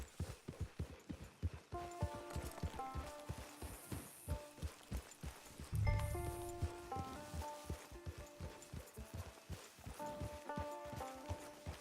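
Horse hooves in Red Dead Redemption 2 Online clip-clop in a steady walking rhythm on hard ground, with soft music playing and a brief thud partway through.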